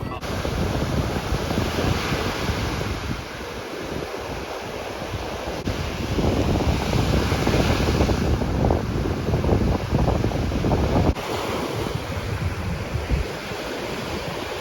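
Sea waves wash against a beach in a continuous rushing surf, heavy wind buffeting the microphone and keeping the roar loud and steady throughout.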